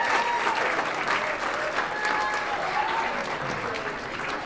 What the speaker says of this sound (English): Big round of applause for the father of the bride